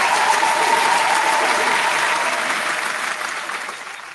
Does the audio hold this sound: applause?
yes